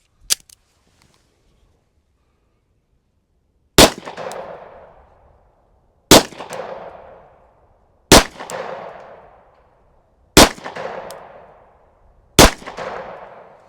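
Five sharp gunshots from a SIG P365 FUSE pistol fired at 10 yards, each a loud close crack with a ringing tail, spaced about two seconds apart after an earlier faint click, with no talking.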